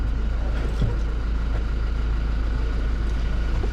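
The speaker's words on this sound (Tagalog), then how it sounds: "Traffic." Steady road traffic with a continuous low rumble of passing cars and trucks, fairly loud and unbroken, with a few faint transient knocks and no clear talk.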